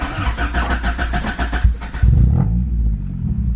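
An H-swapped Honda Accord CD5 engine cranks with a quick stuttering starter whir, catches with a rising rev, then settles into a steady, deep idle, loud and close.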